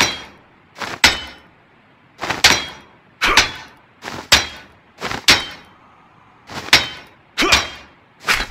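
In the H1Z1 survival game, a hammer repairs a base with sharp metallic strikes, mostly in quick pairs spread across several seconds, loud and close with short silences between, no talking.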